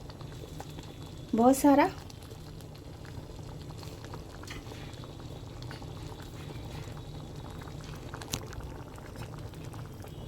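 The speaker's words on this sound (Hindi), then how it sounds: "ये दाल हमारी पक रही है" A pot of Lucknowi-style dal with mutton bubbles and simmers in a low, steady background gurgle, with a brief spoken voice near the start.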